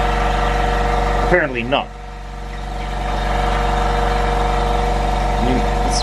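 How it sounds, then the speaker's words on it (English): A workshop air compressor supplying a plasma cutter runs steadily throughout, a constant mechanical drone with a brief voice speaking over it early on. "So I'm beginning to wonder if this compressor is even able to deliver enough air."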